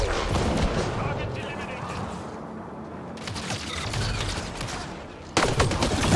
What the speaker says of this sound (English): Am I supposed to shoot these canisters?